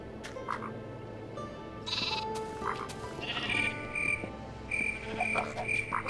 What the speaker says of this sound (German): Kleines Babyschaf.